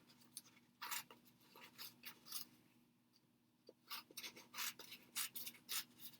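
Scissors snip and slide through paper strips in short bursts of crisp rasping cuts, faint and close, with a steady low hum underneath and a brief pause midway.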